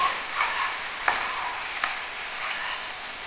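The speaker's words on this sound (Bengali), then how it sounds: "এবার আমি মশলা দিয়ে কষিয়ে দিই ভালো করে।" Drumsticks and mixed vegetables sautéed with spices in a pan, a soft frying sizzle broken by a few sharp scrapes and taps of a spoon against the pan.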